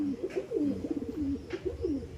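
A pigeon coos in low, soft, rolling phrases, repeated several times close by, with no voices.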